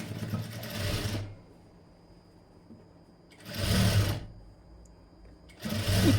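A sewing machine stitches a folded blouse hem in three separate bursts, each a close, loud mechanical whir of about a second, with quiet pauses between them.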